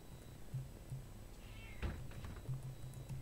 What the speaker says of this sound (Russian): Кот, не ори! Не надо орать!